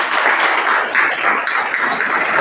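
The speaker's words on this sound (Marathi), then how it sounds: "याला टाळ्या वाजवायच्या" Audience applause at a Marathi Day celebration in a college hall in Andur, a dense, steady clapping that fills the whole stretch at a loud, even level without letup.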